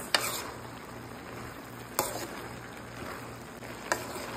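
Squid with pechay sizzles steadily in a pan, with three sharp clacks of a stirring utensil spaced about two seconds apart over the constant frying.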